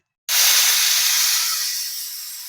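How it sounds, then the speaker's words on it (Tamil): A pressure cooker cooking green gram lentils suddenly lets out a loud, sustained hiss of escaping steam that stays strong and slowly fades. "இப்போ குக்கரை மூடி விசில் போட்டுடலாம்"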